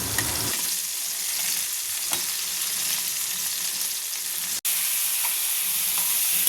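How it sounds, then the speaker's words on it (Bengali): Tomatoes frying in a wok for an eggplant and tomato mash, giving a dense, even sizzle close by that runs unbroken except for a split-second dropout near the end, with no talking. "টমেটোটা ভালোভাবে ভেজে নেওয়া হয়ে গেলে টমেটো ছিকলাটা আলগা হয়ে যাবে"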